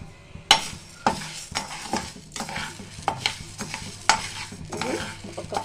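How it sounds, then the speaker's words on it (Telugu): Urad dal, a kilogram of it, being dry-roasted in a kadai until brown, stirred repeatedly so the lentils scrape and rattle against the pan in a steady rhythm of sharp clinks, fairly close and with no talking. "కడాయి పెట్టి 1 కిలో మినపప్పు బ్రౌన్ కలర్ వచ్చేంత వరకు వేయించాలండి"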